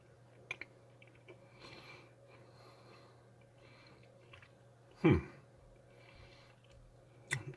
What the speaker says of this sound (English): I'm chewing the bean.